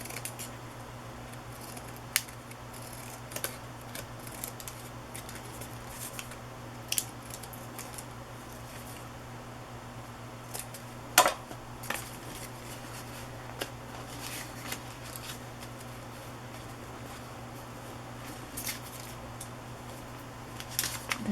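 Pinking shears cut cardstock for a scripture collage book, giving scattered crisp snips and clicks over a steady low electrical hum, close by and fairly faint.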